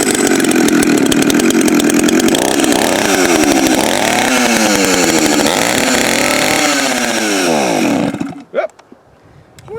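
Vintage chainsaw running loud and close, its engine revving up and down in repeated surges for about eight seconds before it cuts out, followed by a couple of faint knocks.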